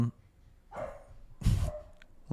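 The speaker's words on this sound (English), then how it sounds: "I got my dog barking in the side of the pod here." A dog barks a few times in short, spaced bursts, somewhat distant and quiet, in the background of a podcast recording where someone talks.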